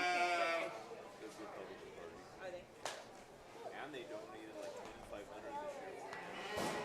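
Older ewes at a county fair sheep show bleat amid crowd chatter and people talking, with a strong bleat at the start and fainter calls and scattered noises after.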